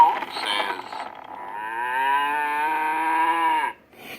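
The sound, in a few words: cow mooing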